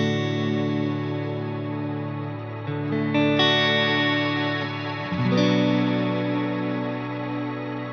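Ambient electric guitar runs through an effects pedal set for many long repeats, sustained notes ringing and shifting in pitch as the echoes pile into a dense, slowly fading wash of sound with no talking.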